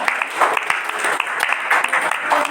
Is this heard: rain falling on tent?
no